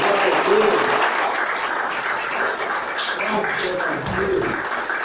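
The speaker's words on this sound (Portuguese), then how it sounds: "Pode aplaudir o Senhor." Applause from a church congregation rises after a call to praise, a steady dense patter of clapping for several seconds with voices mixed in.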